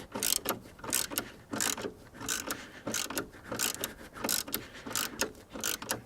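A hand ratchet clicks steadily in bursts, turning spark plugs on an Audi SQ5 3.0L TFSI turbocharged V6 at about 40,000 miles; close, rhythmic mechanical ratcheting with short pauses between strokes.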